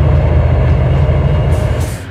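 An eastbound train in an animated railway story passes close by with a loud, steady low rumble and rhythmic rolling of wheels, then fades slightly toward the end.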